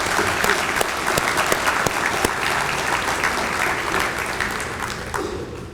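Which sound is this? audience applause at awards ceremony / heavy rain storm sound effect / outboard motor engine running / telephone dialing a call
audience applause at awards ceremony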